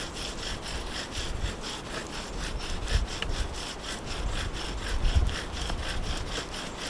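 Steady rhythmic grinding and rasping of a bow drill spindle on wood, a back-and-forth scraping repeated quickly and evenly, close and moderately loud with no voices.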